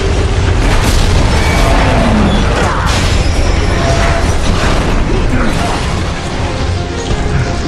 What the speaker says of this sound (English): We're gonna blow up the whole ship, genius!